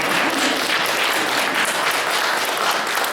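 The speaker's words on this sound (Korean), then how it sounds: "여러분 이럴 때 박수 한번 치는 겁니다." A church congregation bursts into steady, dense applause that fills the room, sustained and loud throughout with no pauses.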